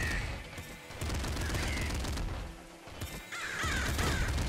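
Triple machine gun firing in the top-down shooter game Nuclear Throne, rapid bursts of crackling gunfire layered over busy game music and effects, fairly quiet overall with short pauses between volleys.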